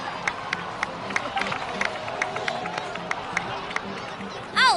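Cheering and applause from a crowd in the video game Genshin Impact, scattered claps and murmuring voices for several seconds, ending with a brief whooshing effect.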